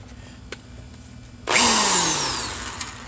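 An electric drill starts abruptly midway and whirs loudly during tractor brake work, its pitch slowly winding down after a quiet stretch.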